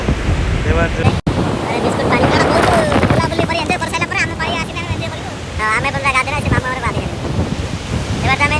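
Rough sea waves after rain roll and crash under strong wind, a loud continuous roar with heavy wind buffeting the microphone, while people talk over it throughout.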